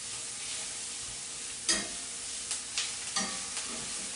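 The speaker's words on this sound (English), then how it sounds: "I'm going to add a little bit more of butter to this so it doesn't dry out" Spaghetti squash and plant-based meat sizzle in butter in a pan, a steady frying hiss broken by a few sharp stirring scrapes and clicks near the middle and end, with no talking.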